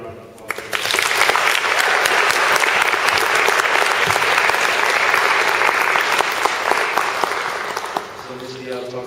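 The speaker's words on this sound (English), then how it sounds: "Can we get another round of applause?" An audience at a university event breaks into loud sustained applause after a speaker, the clapping swelling quickly and holding strong before a voice begins speaking as it fades.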